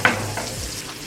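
Frying in a mix of vegetable oil and fat rendered from bone marrow bones, a close, steady sizzle with a sharp clatter at the very start.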